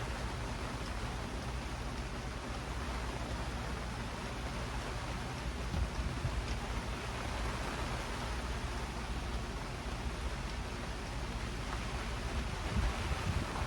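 Steady rain hiss mixed with gusting wind rumble, rain blowing at the listener, constant and broadband throughout, with no voices.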